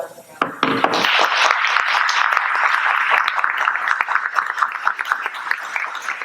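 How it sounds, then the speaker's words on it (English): A school board candidates' forum audience breaks into sustained applause, a dense steady clatter of many hands that starts abruptly and holds at full strength to the end. "you can give the candidates some applause now"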